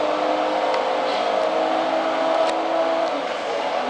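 A car engine in GTA V drones steadily under acceleration, a loud, even engine tone held throughout with no speech over it.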